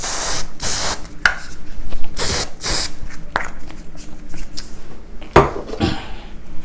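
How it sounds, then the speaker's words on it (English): Dove body spray hisses out of an aerosol can in several short bursts, loud and close, with a few light clatters in between and no talking. "And then Dove spray,"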